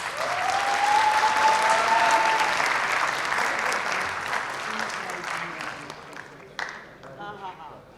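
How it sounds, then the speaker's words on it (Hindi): A literary festival audience in Faisalabad applauds to welcome a poet, with sustained, loud clapping across the crowd that slowly thins, and a voice begins speaking near the end. "आपकी भरपूर तालियों में जनाब अदनान बेग।"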